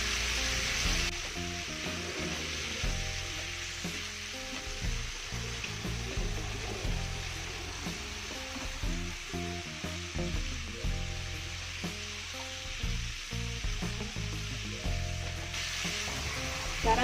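Red chili, small chili and garlic frying in a pan for a black squid-ink dish, a loud continuous sizzle with stirring and scraping clatter throughout.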